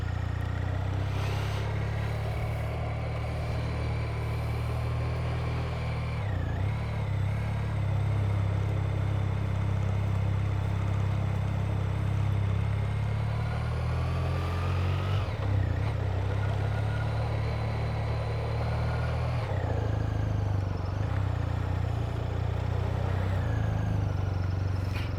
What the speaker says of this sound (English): Oh, I do like this engine. What a machine.